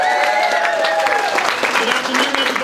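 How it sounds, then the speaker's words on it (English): An audience at a community campaign launch event applauds youth and community activists, a dense, continuous wash of clapping with some cheering mixed in, loud and close throughout. "Give these youth activists and other community activists a big round of applause."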